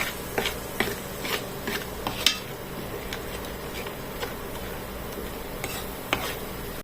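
Spiced masala for chana chaat frying gently in a pan over a low flame, a soft steady sizzle broken by a run of light scraping stir strokes, close and moderately quiet, with no voices.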